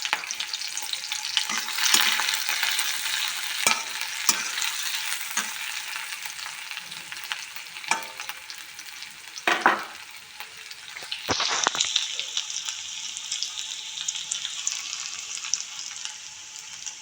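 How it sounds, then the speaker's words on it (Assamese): Ginger, garlic and green chili fry in hot oil with a steady, close sizzle, broken by occasional scrapes and stirring clatter, and no voices. "আদা নহৰু জলকীয়া ধুনীয়াকৈ এইখিনি ৰঙচুৱাকৈ অকণমান ভাজি ল'লোঁ।"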